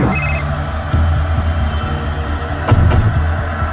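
An electronic phone ring repeats briefly over a low steady hum, with no one answering.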